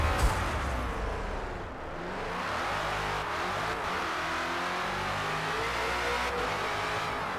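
Ford Falcon FG X race car engine in Forza Motorsport, revving loudly and steadily at the start at Daytona, a dense continuous roar that rises and holds with no speech.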